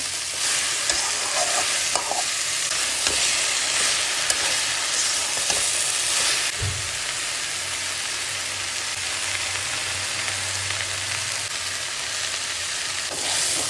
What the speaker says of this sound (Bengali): এখন ঢেঁড়সটা ভেজে নেবে ভালো করে